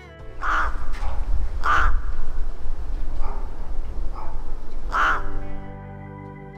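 Rooks caw in a winter setting in Poland, giving three loud, harsh calls spaced well apart over a steady background rush, with fainter caws from other birds in between.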